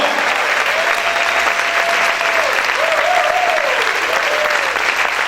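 A church congregation applauds loudly and steadily throughout. A sustained sung or spoken vocal line rises faintly above the dense clapping.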